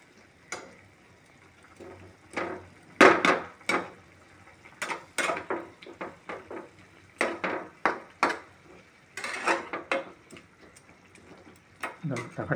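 A lid goes onto a cooking pot of potatoes and onions simmering in water, giving a few sharp metallic clinks and taps scattered among kitchen clatter, with people talking throughout.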